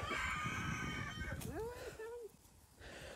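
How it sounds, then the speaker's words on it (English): A backyard rooster crows in clear, rising calls, close and fairly loud, with other fowl clucking around it and a brief low voice in the background. "we get here to the roosters and we can film them"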